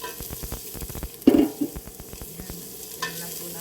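Pork liempo fries in a pan with garlic, soft sizzling under repeated rhythmic stirring and scraping taps, with a louder sputtering burst near the middle, close and moderate in level, with no talk.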